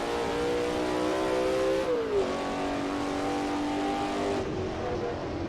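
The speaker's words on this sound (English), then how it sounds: "I knew it had a V8, but I was not ready for that noise." Racing V8 engine from a 1960s GT race car in a video game mod, roaring steadily at high revs with a brief drop around a gear change, loud and continuous with no talk.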